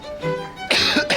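A person coughs twice in an indoor setting, a short throaty cough followed by a louder, harsher burst, close by and alone with no talking.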